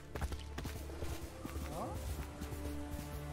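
Horse hooves clip-clop at a walking pace in a video game trailer shown at Sony's E3 2018 conference, steady moderate steps mixed with music and other game sounds, with people talking over it.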